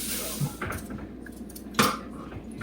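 A knife cuts onions in a home kitchen: a few scattered, fairly faint taps and clicks against a board, with a sharper knock near the end over a low room background.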